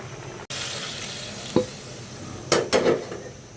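Eggs cooking in a pan for egg bhuna: a steady low sizzle of frying, broken by a few short scraping stirs near the end, close and moderately loud.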